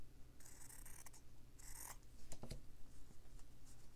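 Scissors snip along fabric edges during a slow-stitching embroidery project of an echeveria cactus, a few short crisp cuts in bursts close by, with quiet handling between them.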